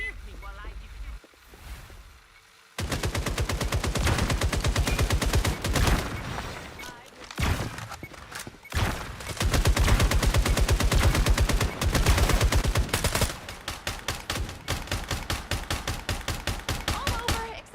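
Gunfire erupts in a Throne and Liberty match, with rapid, loud bursts and sustained volleys that are interrupted by brief pauses, while in-game voices and callouts are heard in the mix.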